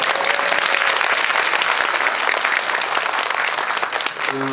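A theatre audience at a Korean film talk event for the movie Confidential Assignment 2: International claps loudly and continuously, a thick, close wall of applause from a large crowd that fades slightly near the end.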